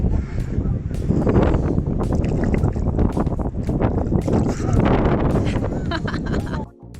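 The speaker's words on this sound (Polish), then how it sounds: "Ale wieje." Strong wind gusting across a microphone outdoors at a cold-water swimming spot, a loud continuous rumbling roar with buffeting bursts that drops away briefly near the end.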